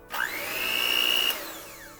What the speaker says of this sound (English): I've got my mixer.